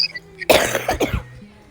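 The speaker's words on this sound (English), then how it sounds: "I was coughing." A person coughs sharply a few times in a quick burst, loud and close, with quieter electronic tones before and after.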